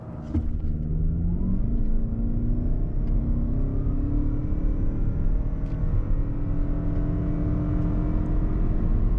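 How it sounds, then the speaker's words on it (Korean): A 2022 Lexus ES300h hybrid facelift accelerating hard in sport mode, its engine note rising in a steady loud drone with rumbling road noise from inside the cabin, continuous and without speech. "그러면 렉서스 ES 가속 성능은 어떤지 볼까요?"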